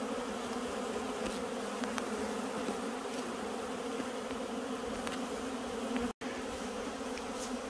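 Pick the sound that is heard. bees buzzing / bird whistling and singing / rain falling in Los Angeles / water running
bees buzzing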